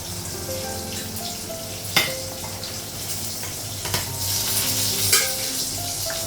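Eggplant slices sizzle and crackle steadily as they fry in a pan in a home kitchen. A few utensil clinks and scrapes break through at intervals, and no one speaks.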